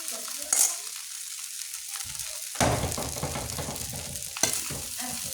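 Rice stir-fried with soy sauce sizzles steadily in a hot pan, broken by a few sharp scrapes and tosses of a spatula, close and fairly loud, with no speech.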